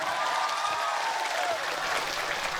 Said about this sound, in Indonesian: Tepuk tangan untuk kire kudungan.